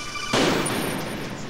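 A single loud gunshot from the Metal Gear Solid Integral video game, a sharp blast followed by a sustained, decaying rumble and hiss.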